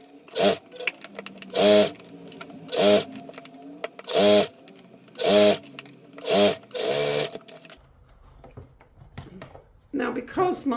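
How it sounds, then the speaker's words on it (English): A sewing machine stitches the back seam of a fabric cloche hat in repeated short bursts of close, whirring runs separated by brief pauses, followed by a few softer handling sounds. "I'm going to stitch all the way around now and join those two together. I'm going to start with the back seam"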